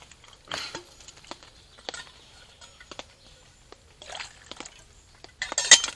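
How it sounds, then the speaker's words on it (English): Cold water poured into a coffee pot outdoors on a rainy day, with irregular splashes, drips and short gushes close by, fairly quiet and with no talking. "Right, we'll put a bit of cold water"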